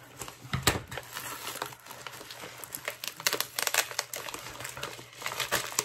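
Plastic packaging is crinkled and crumpled continuously at close range during an unboxing of a diamond-embroidery kit, with irregular crackly bursts and no speech.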